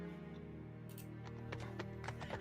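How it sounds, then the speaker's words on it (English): Horses pulling a carriage, hooves clip-clopping in a loose rhythm that emerges partway through over a sustained musical drone, fairly faint and mixed in with the background. "You hear the Clop, clop."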